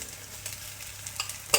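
Cooled rice goes into a hot pan for egg fried rice and is stirred, with crackly sizzling and scraping stir sounds up close, ending on a sharp clatter.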